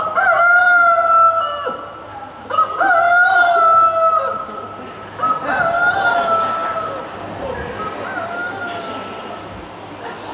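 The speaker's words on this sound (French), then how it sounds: "Au chant du coq, vous vous réveillez maintenant." A rooster crows loudly and close by, three long cock-a-doodle-doo calls in a row with short gaps between them, the last one fading into quieter background sound.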